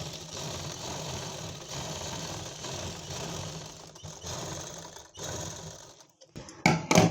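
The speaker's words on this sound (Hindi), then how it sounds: "पहले हम दोनों के आसन स्टिच कर लेंगे। आसन पे हम 2 सिलाई लगाएंगे।" A sewing machine runs steadily, stitching the seat seam of an Afghani plazzo, its fast mechanical chatter continuous and close for most of the clip before stopping briefly near the end and restarting in short bursts.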